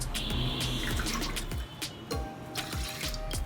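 Water pours from a cup into rice for cooking in a pressure cooker, a steady splashing trickle with soft clinks, heard close and fairly quiet.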